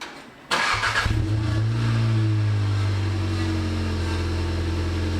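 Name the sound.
Golf GTI TCR engine started, with its exhaust sound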